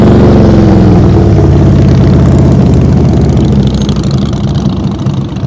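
A motorcycle engine runs loud and close during a slow-speed riding exercise, rumbling steadily with throttle blips that swell and then ease off toward the end, no talk.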